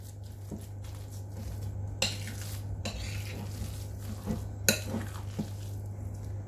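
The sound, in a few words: mixing turkey kebab meat with oil in a bowl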